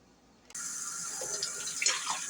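Tap water suddenly starts running and splashes steadily through a strainer, rinsing food, a bright hissing flow with small spattering shifts.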